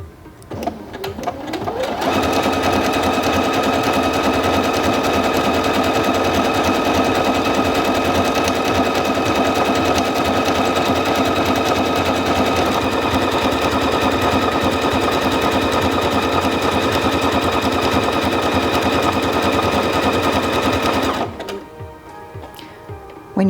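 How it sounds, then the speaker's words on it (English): A Singer Featherweight C240 sewing machine stitches steadily for about twenty seconds with its even feed system engaged, a loud, fast, continuous mechanical whir and rattle that starts and stops abruptly, with no talking. "now we're ready to sew stitch number 27"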